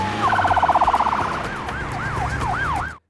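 A loud, close ambulance siren from a film scene, starting with a rapid yelp warble and then switching to a slower wailing sweep, over engine rumble before cutting off abruptly.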